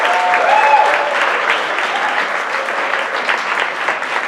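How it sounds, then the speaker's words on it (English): A large audience claps steadily and densely for the bartenders at a university physics department's year-end show, a full wash of applause that holds at an even level for the whole stretch. "Can we get a round of applause to our bartenders in the back?"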